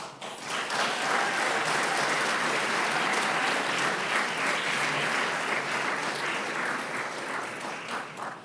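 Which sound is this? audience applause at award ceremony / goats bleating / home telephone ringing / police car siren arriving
audience applause at award ceremony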